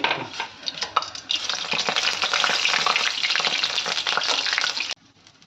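Small shrimp fritters (chingri fuluri) deep-frying in hot oil give a dense, steady sizzle with crackling pops, close and loud throughout, then cut off abruptly near the end.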